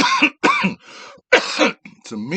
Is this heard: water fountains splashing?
no